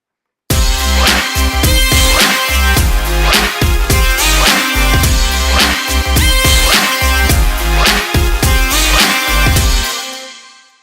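An electro lead synth plays in a full dance mix, loud and dense, with punchy kick hits pulsing under the bright buzzing lead before a fading tail.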